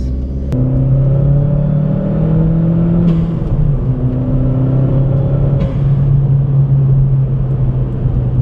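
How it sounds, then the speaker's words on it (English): Steady engine drone and rumble from a 2013 Chevrolet Sonic RS hatchback on the road, heard from inside the cabin, with the revs rising and shifting in pitch several times. "here we are in my 2013 Chevrolet Sonic RS."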